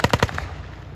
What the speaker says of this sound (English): The Lewis gun of the tank is still firing